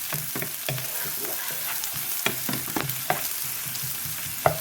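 Chili and other ingredients sauté in a pan until golden, a steady loud sizzle broken by frequent scraping stirs, with no voices.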